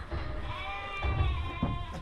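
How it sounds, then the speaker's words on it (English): Lambs, grown young sheep, bleating close by in several overlapping, wavering calls with a low rumble of handling noise underneath; no one speaks. "They're here. Oh my days, they've grown. They're like serious lambs."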